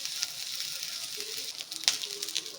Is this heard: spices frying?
yes